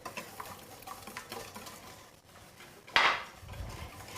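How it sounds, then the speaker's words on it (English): Egg being whisked into a chocolate mixture in a pot for hot chocolate-flavoured Nanaimo bars, giving a steady run of light scraping, clinking strokes close by, with one louder clattering hit near the end. "Keep whisking."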